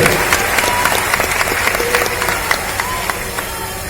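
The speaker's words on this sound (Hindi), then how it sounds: "जोरदार तालियों से उनका स्वागत करेंगे।" Steady applause from a large crowd at a political event in India, many hands clapping at once in a dense, continuous patter that holds at an even level throughout.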